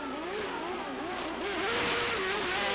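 1998 CART race car engine at Motegi, revving during a pit stop: a sustained, buzzing high-rev drone that wavers up and down in pitch, with a harsh broadband roar growing slightly louder toward the end.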